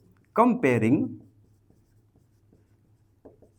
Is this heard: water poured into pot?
no